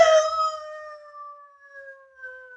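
An Irish setter named Jacko howls in a radio drama, a single long drawn-out tonal howl that starts loud and slowly fades, heard alone without talk.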